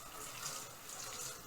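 Water pours steadily over a Kai Pro 5.5-inch prep knife and a cleaver, a continuous splashing rush like a running tap, close and fairly quiet with no talk.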